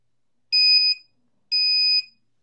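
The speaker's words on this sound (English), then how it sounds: "if we plug this in here, plug our beeper in" A 3D-printed, PWM-controlled buzzer fitted to a Traxxas Rustler RC truck gives two loud, clean electronic beeps about a second apart, each lasting roughly half a second, with silence between.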